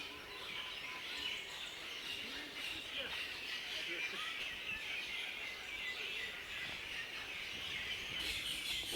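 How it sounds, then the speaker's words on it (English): Many birds chirping and calling along a tree-lined walkway in Mauritius, overlapping bright calls close and farther off, a busy continuous chorus over faint background noise. "There are a lot of birds"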